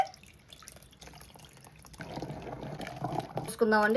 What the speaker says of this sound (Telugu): చింతపండు నీళ్ళు పోసుకుందామండి